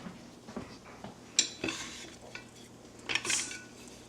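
Dishes being washed at a sink, with a spatula still crusted with egg scrubbed amid scattered clinks, scrapes and rinsing sounds, close and moderately loud.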